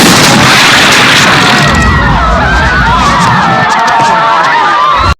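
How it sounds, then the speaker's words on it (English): A loud, crunching burst from the head explosion in the horror film Scanners erupts and churns into a dense rumble with crackling debris, then cuts off abruptly at the end. "probably the master head explosion in horror, David Cronenberg's Scanners."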